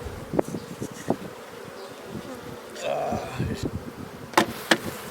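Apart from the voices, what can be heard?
honey bee swarm buzzing around frames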